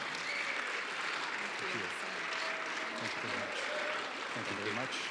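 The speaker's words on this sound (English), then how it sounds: "can we have a round of applause for these wonderful candidates, your District 26 International Speech Contest champions" An audience at a District 26 International Speech Contest applauds the champions with steady, sustained clapping that fills the hall throughout, with faint voices beneath it.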